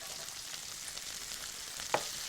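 Lamb sizzles in a pan as green pepper, sliced red pepper and onions are added, a soft continuous frying hiss with a couple of small clinks near the end.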